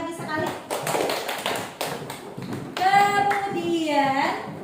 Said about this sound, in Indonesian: Kita beri tepuk tangan lagi sekali.